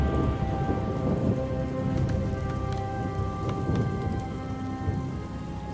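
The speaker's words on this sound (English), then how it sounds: "The storm is receding." Heavy rain pours steadily in a Warcraft cinematic thunderstorm, with distant rumbling thunder beneath a dense, continuous hiss, loud and unbroken throughout.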